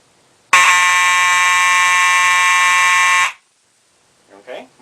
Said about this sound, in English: So this is what continuous would sound like.